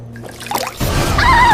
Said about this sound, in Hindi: जरा मुंह धो लेती हूँ।